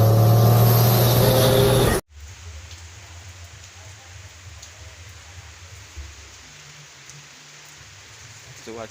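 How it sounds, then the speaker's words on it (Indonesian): Rain falls in a steady, soft hiss after a loud burst of music cuts off, with a low engine-like hum rumbling underneath and a faint voice at times. "Cuaca hujan lur."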